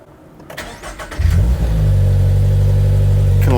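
A Subaru BRZ/GR86 engine starts after an oil change: a few clicks, a short crank, then the engine catches with a loud rev and settles into a steady, close idle drone.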